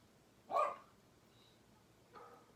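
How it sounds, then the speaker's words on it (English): A dog gives one sharp, fairly close bark, followed after a pause by a softer second bark indoors, with no talking. "my dog is barking"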